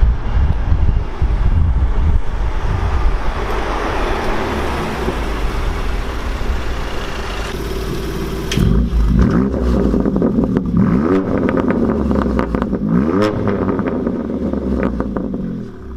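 A modified BMW M2 engine revs and roars through wind noise, rising and falling in pitch as it accelerates past, loud and sustained throughout.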